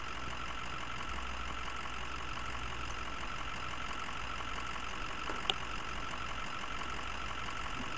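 Ford 6x6 truck engine in the Spintires video game, running steadily at a low, idle-like drone while winching on a muddy hill map, with one brief sharp click partway through and no voices.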